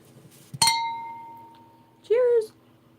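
Glasses clink together once in a bright, ringing toast that decays slowly, close to the listener, followed a moment later by a short high animal-like vocal sound over low background noise.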